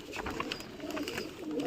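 Young pigeons coo in a home loft, low rolling calls close by, mixed with light rustling and handling noise.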